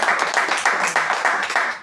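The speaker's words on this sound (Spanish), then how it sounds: "Juliane Moares Peratelli, un aplauso." Audience at a book launch in Paraguay clapping in a short burst of applause, dense and fairly close, with a voice faintly underneath.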